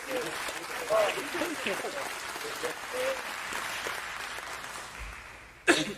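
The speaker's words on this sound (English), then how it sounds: "give him a round of applause" A lecture-hall audience claps in a moderate, fairly even patter mixed with murmuring voices, ending with a sharp knock or thump near the close.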